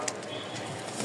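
Top-quality pigeons, including Lal Sundori and white-and-black muffed-foot birds, coo softly against steady broadband background noise for about a second, with no talk.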